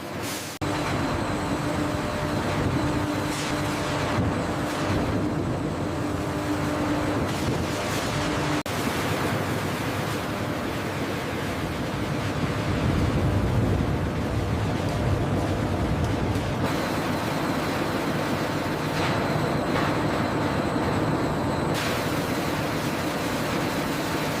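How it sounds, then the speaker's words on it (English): An industrial washer tumbles potatoes in swirling water inside a charcoal soap factory, producing a continuous sloshing, rushing roar with machinery hum and faint rattling beneath. "The potatoes enter the industrial washer, where they are vigorously tumbled in swirling water to remove excess dirt."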